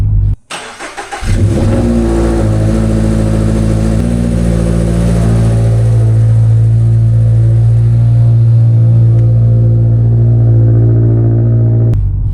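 Toyota GR86 with a muffler-delete Remark axle-back exhaust starting up and holding a loud, steady droning rev, close and continuous with no talking.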